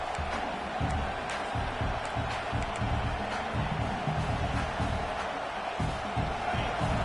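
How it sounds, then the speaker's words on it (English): A football stadium crowd roars steadily at a distance, a dense rumble of cheering and shouting with occasional louder swells, sustained throughout without a break. "This crowd is trying to inspire this defense to make a big red zone stop"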